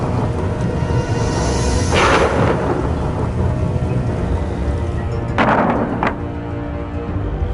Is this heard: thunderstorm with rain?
yes